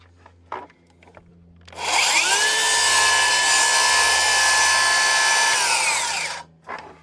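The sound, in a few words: saw cutting wood in an existing kerf, timber frame joint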